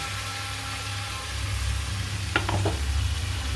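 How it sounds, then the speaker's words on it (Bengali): Water poured into a pan of frying spices for a shrimp and pumpkin curry, giving a short burst of sizzling and bubbling over a steady low hum from the stove. "এবারে মশলা ধোয়া দেখো জলটা দিয়ে দিচ্ছি"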